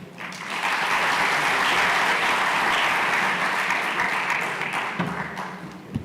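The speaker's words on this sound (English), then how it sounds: "Another round of applause for Professor Anne Muigai" A large audience at a national science and technology exhibition breaks into sustained applause, a dense wash of clapping that holds steady for several seconds before thinning slightly toward the end.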